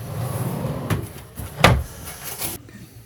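A cupboard door on a sailboat is opened, giving a couple of short knocks and a sharp wooden clack near the middle, close and fairly loud over low cabin background with no speech.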